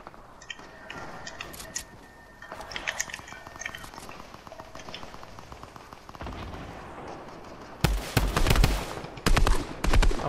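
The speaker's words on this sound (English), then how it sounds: "Stop shooting the stairs or bases." Gunfire in Fortnite as shots hit stairs and base structures: scattered bursts and rapid shots build to loud, dense volleys near the end.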